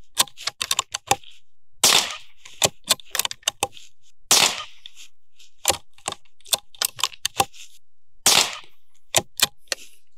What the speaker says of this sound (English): now we're going to shoot at our red dot,